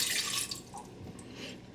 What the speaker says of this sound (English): So I will put a half a cup of water here.